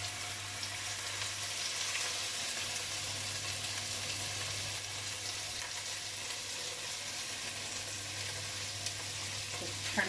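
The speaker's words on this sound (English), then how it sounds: "And then we're just going to fry off the chicken" Chicken pieces frying in an oiled pan give off a steady, dense sizzle that holds evenly throughout at moderate closeness, with a low background hum and no voices.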